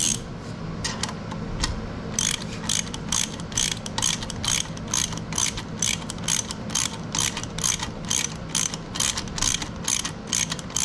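Torque wrench ratcheting in a steady run of sharp, close mechanical clicks while tightening a screw on a 1966 C2 Corvette during restoration, even rhythm, no talking.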